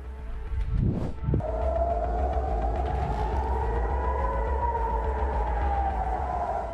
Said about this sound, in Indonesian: sirene peringatan darurat langsung menggema di Israel